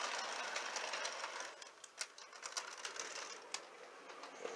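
A Proto 1000 HO scale model locomotive in Canadian National livery running on a layout, giving a continuous soft mechanical whir with light clicking and rattling from the track, close and fairly quiet.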